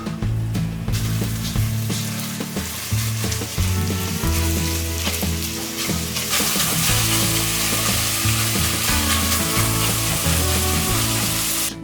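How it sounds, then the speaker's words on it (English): Ground bison meat browns in beef tallow in a pan, a steady loud sizzle with intermittent stirring and scraping, joined by low rhythmic music throughout and growing brighter and harsher in the second half. "While the bison meat is browning"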